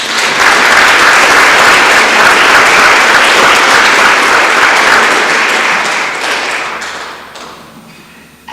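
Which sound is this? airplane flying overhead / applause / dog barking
applause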